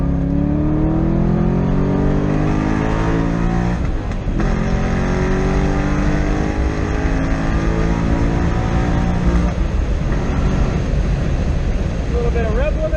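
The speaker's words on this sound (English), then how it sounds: "A little bit of rev limiter there." A Corvette C6 Z06 on a track day revs hard and bounces off its rev limiter, with loud, sweeping engine harmonics rising through the gears and brief drops at shifts, all heard from inside the car.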